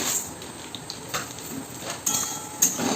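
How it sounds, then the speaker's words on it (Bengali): Vermicelli fries in ghee with cardamom in a pan, giving a gentle sizzle with intermittent stirring scrapes and light clinks of a utensil against the pan. "সিমুইটাকে বেশ লাল করে ভেজে নিতে হবে"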